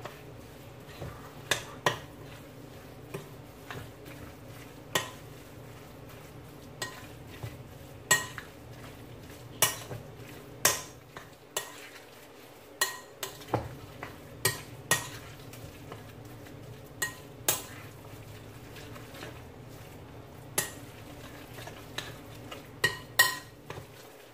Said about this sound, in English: You're going to combine all your ingredients together.